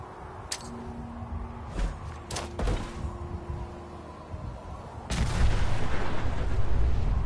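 Explosions and weapon blasts from the Fallout 4 video game, with several sharp cracks and booms in the first few seconds, then a heavy, sustained rumbling blast.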